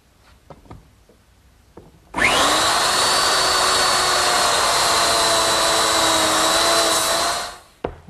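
A biscuit joiner set to its smallest cut spins up and cuts slots in narrow pine rails, a loud steady motor whine holding for about five seconds before winding down, with faint handling knocks before it starts.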